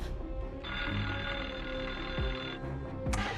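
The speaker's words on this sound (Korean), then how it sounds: "실종 3시간 만에 이제 첫 번째 전화가 옵니다" An old-style telephone bell rings continuously for about two seconds, fairly close and clear, with faint background noise around it.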